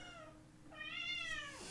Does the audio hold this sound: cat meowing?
yes